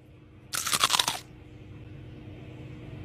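A single loud crunch of biting into something hard among soft food, a dense crackling burst lasting about half a second, then quiet room tone.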